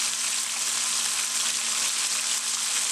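Vegan fried chicken frying in hot vegetable oil, a steady close bright sizzle with fine crackling that holds evenly throughout, with no voices.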